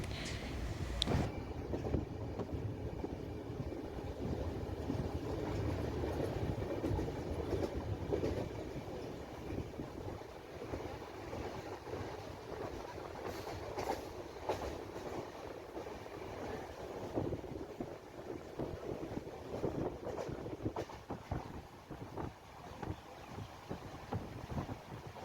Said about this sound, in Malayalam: ട്രെയിൻ ഇങ്ങനെ പോവുകയാണ്.